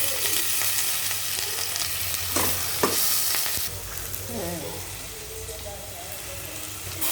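Green gram stirs and sizzles in a pan with curry leaves, tomato, green chilli, cloves and cinnamon, a steady close frying hiss broken by a few scraping stir strokes, with faint voice-like sounds in the background.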